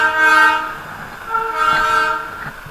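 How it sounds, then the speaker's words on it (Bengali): A Darjeeling Himalayan Railway toy train passes close by in fog near Ghum station, its loud horn sounding in two long blasts over rumbling wheels. "টয় ট্রেন যাচ্ছে এখন"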